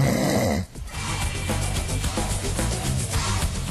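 A person snores loudly in long, rough, rattling breaths that continue steadily with a brief break near the start.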